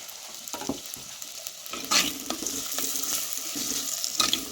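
Soft crackling and sizzling of fenugreek seeds frying in oil for a Jaffna-style cuttlefish curry, with scattered pops and a stirring scrape, moderately quiet.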